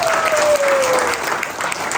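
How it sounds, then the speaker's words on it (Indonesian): A church congregation at a worship service in Cianjur applauds steadily, a dense wash of clapping filling the whole moment, with a faint sustained tone sliding downward underneath. "Berikan tepuk tangan bagi dia."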